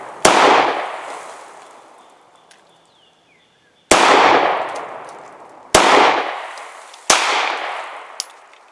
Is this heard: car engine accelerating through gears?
no